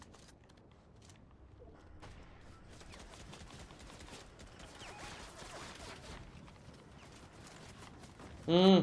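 Rapid bursts of gunfire crackle through a noisy Fortnite soundscape, building steadily, with a brief murmur from a voice near the end.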